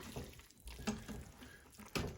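Water splashes and pours into an Instant Pot holding spaghetti sauce and meat, a few short close splashes and trickles at low volume.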